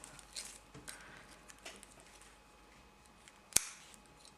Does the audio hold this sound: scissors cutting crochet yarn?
yes